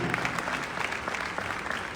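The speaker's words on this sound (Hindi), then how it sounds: "इसके लिए आप लोगों को जोरदार ताली बजानी चाहिए।" An audience claps at a Jain community event in the Netaji Indoor Stadium, giving a short burst of dense, even applause.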